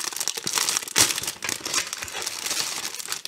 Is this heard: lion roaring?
no